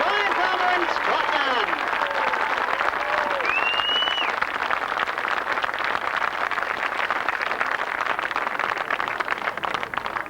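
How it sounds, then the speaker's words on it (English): Audience applause for British grasstrack champions at a 1993 championship event, a sustained dense wash of many hands clapping, loud and even, with a voice speaking over it early on. "a big round of applause to our British champions"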